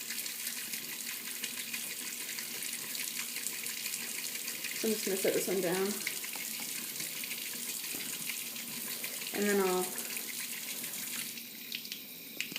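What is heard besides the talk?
tap water running while washing makeup brushes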